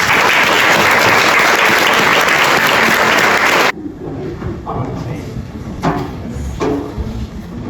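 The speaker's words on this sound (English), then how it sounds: "Let's give her another round of applause." An audience at a chamber leadership graduation gives dense, loud, sustained applause that stops abruptly, leaving room noise and a few stray sounds.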